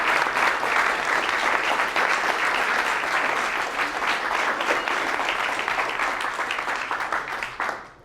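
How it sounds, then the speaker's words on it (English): An evening audience at a talk on lean practices gives sustained applause, dense close clapping that fills the whole stretch at even strength before tapering off at the end. "a huge thank you and round of applause for coming out tonight"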